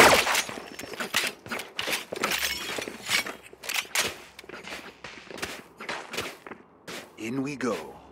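Gunfire in the video game Valorant comes as sharp, rapid bursts of shots with breaking and shattering impacts, mixed in with a player talking over the action.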